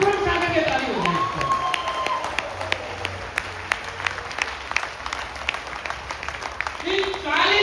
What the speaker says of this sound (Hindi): एक बार मैं चाहूंगा इनके लिए स्पेशल ताली हो जाए